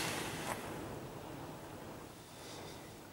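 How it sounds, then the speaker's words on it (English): Strong wind roars and buffets the microphone in a continuous rushing noise, with a hint of surf underneath. "It's absolutely windy"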